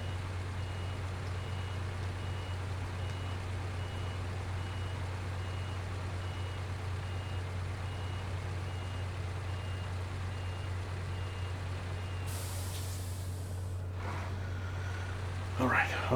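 Reversing beeps from a truck in Snowrunner, a steady repeated tone over a constant low engine drone, with a brief burst of air-brake hiss near the end and a voice talking.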